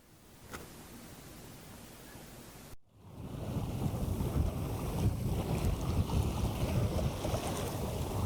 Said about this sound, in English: I'm sailing here along the coast of Denmark in really very light winds.